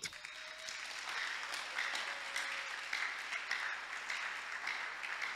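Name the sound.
congregation applauding to acclaim the king in church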